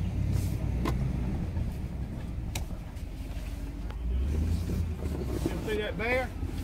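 A side-by-side utility vehicle driving on mountain roads, its engine droning steadily beneath wind buffeting the microphone, with brief clanks and a voice talking over it.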